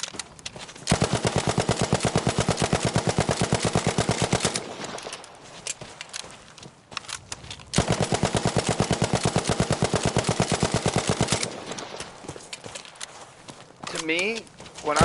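Hip-fire gunshots in the video game Battlefield V: two long, rapid-fire automatic bursts of evenly spaced shots, loud and close, separated by a quieter gap of movement and game noise.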